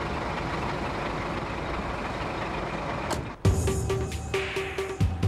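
Long, heavy megatruck (LZV, eco-combi) rumbling past with steady road and engine noise, then a sharper section with air brake hiss and beeping tones near the end.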